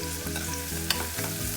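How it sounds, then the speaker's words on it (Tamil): Tomatoes fry in a pan with turmeric, chili powder and salt while being stirred for Dindigul mutton biryani, giving a close, continuous sizzle with soft scraping of the stirring. "தக்காளி நல்லா இப்போ வதங்கிட்டுருக்கு."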